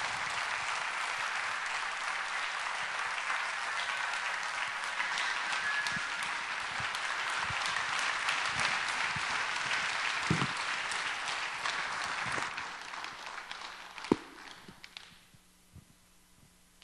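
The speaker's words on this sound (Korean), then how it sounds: "다 같이 한번 박수로 목사님 맞이하겠습니다" A church congregation claps together to welcome the pastor to the front during a Korean worship service. The steady, dense applause fills the room for about twelve seconds, then thins out and stops.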